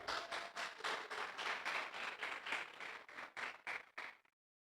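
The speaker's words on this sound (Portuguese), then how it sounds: "Palmas pro irmão, gente." A crowd claps for a man who won a box of chocolates, a brisk burst of applause lasting a few seconds before stopping abruptly.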